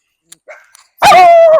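A dog on a farm lets out a few faint yips, then a single loud, drawn-out whining bark close by.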